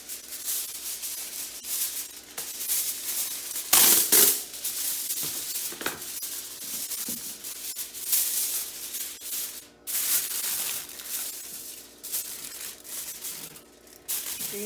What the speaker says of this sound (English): you're going to want to line a cookie sheet with aluminum foil.